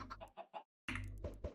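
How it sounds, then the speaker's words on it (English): Chickens cluck in a farm-style video game, a quick run of short clucks, a brief pause, then a louder burst of clucking, with no talk. "I need enough chickens in here."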